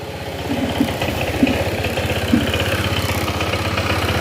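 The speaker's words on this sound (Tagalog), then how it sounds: "Ito nga papansin yung tunog ng makina niya." A small motor scooter engine with a CVT idling steadily nearby after a CVT cleaning and belt replacement, a low, even putter with a few slight bumps in its rhythm.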